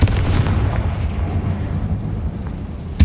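A Confringo fire spell blasts inside an abandoned, tomb-like mine in the video game Hogwarts Legacy, a heavy booming explosion with a deep rumbling tail that sustains loudly for about three seconds, with a fresh burst at the very end.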